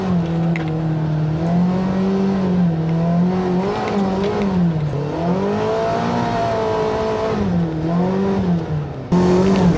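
Enclosed-cab UTV accelerating, heard from inside the cab: a steady, droning engine note that rises and falls repeatedly as the throttle is worked, loud and close, with no talking.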